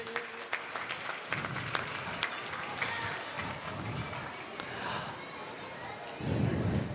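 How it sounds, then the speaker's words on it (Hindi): Audience applause at a school annual day award ceremony, a moderate crowd clapping with some sharp individual claps and murmured chatter, plus a low rumbling burst near the end. "जोरदार तालियां अंकल के लिए।"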